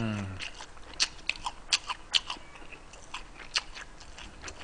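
Someone bites and chews the last piece of sausage from a pork-neck steak and sausage meal, close to the mic: a string of moist, crunchy chewing clicks in uneven rhythm with no talking.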